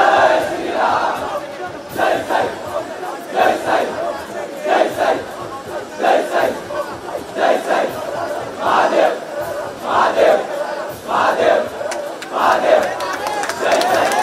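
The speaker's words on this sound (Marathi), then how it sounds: "टाळ्यांचा गडगडाट या ठिकाणी पाहायला मिळतोय।" Dense crowd at a Dahi Handi festival in Thane, with cheering and applause swelling in repeated waves and shouted cries throughout, loud and continuous.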